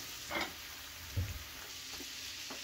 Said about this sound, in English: tossing in the lovely onions and hearing it hit. Combination of butter and onions.